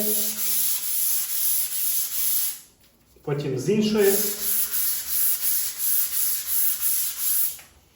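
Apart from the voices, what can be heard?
sanding a wall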